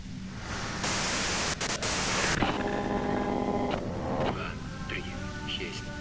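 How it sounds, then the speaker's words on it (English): Harsh broadband white-noise static from the Disco Elysium video game fills the clip loudly, shifting in texture partway through, with faint tonal hum and a voice talking over it. "If you've got something really important to say, you can do it through the white noise."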